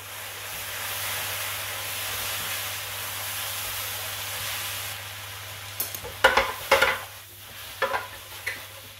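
Vegetable chow mein frying in a pan with soy sauce and sesame oil, a steady hiss that gives way to sharp bursts of sizzle and stirring clatter near the end.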